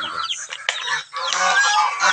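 Geese honking loudly and repeatedly in a noisy flock among turkeys, ducks and chickens, harsh overlapping calls crowding together close by.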